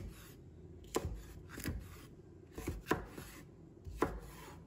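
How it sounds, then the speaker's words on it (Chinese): Knife chopping chili pepper into pieces on a cutting board: four or five distinct, fairly crisp chops spaced about a second apart, close and alone with no talk. "把里面的辣椒籽去掉，再把它切成段"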